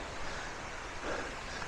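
Rushing water at the top of Kuang Si waterfall near Luang Prabang, a broad, steady roar with no voices over it.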